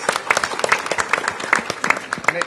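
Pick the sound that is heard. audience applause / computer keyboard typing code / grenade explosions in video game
audience applause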